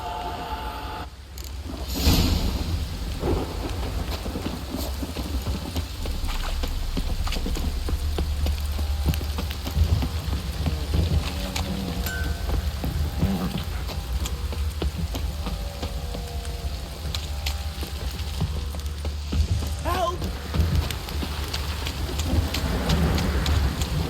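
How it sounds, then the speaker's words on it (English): Steady heavy rain pours throughout in a video game, with a rumble of thunder early on and scattered drips and patters close by. "This downpour's a bastard, it is."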